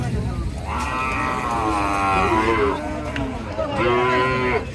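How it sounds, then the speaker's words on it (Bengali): A small cow at the Hazratpur cattle market gives two loud, drawn-out moos, the first long and the second shorter, close by over a constant murmur of crowd noise. "এখানে একটি ছোট গরু"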